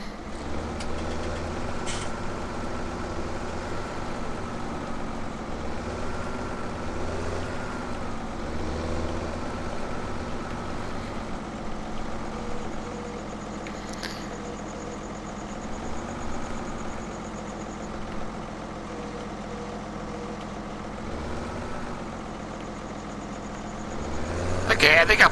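A tractor engine idling in the Farming Simulator 17 video game on PS4, a steady low rumble running throughout with a brief rise in level at the end; a person talks over it.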